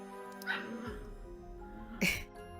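A small dog gives soft whimpers and a couple of sharp yips, close by, over a quiet room with a faint voice in the background.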